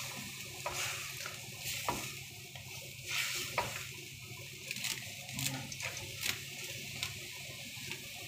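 Pancit canton noodles fry in a pan with a faint, steady sizzling hiss, broken by scattered light clicks and ticks from the pan, with no talking.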